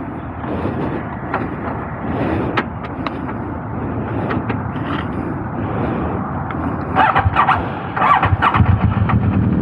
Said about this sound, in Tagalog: gamit pa rin natin itong Bobber ng Bristol 650cc.